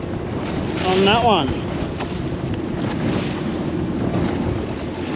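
A boat trawls at 3.5 knots on the Swan River in Perth, giving a close, steady engine and wind drone with a high squeal near the start, while a voice speaks briefly over it.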